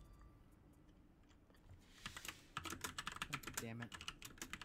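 Fast clattering keystrokes on a computer keyboard that has lost its W key, coming in close bursts during a game of For Honor, with a man swearing briefly over the typing.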